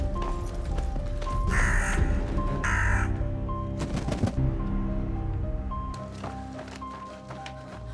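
A raven gives a few harsh, rasping caws in two close bursts, then a louder call, over a steady low background with no talking.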